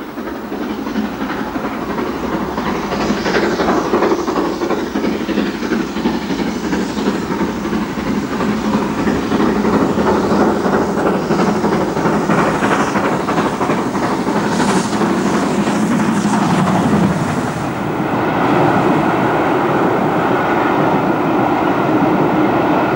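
A GWR Castle class steam locomotive, No. 5080 Defiant, hauling a 1988 rail tour from Tyseley to Didcot, passing as a steady loud rush of rolling train noise with rhythmic wheel clatter, continuous and close, with no voices.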